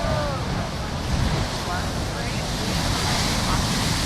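Heavy surf surges along the rocky New South Wales coast, a continuous loud roar of big ocean waves over deep water with steady wind noise throughout.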